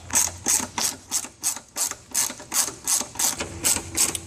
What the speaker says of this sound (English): You can just use the ratchet and take these off.